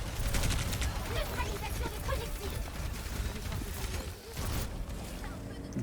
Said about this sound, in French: infliger une grosse pression avec les tirs qui sont illimités et aussi les missiles